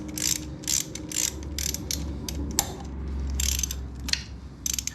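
A socket wrench ratchets on a 1950 BSA B33 motorcycle, giving quick runs of clicking strokes in uneven bursts, close by over a low background hum.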